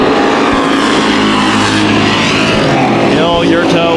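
Race cars roar around a track, among them the 91 car of Charles Paul, with a loud continuous engine drone and passing whines while a commentator talks over it.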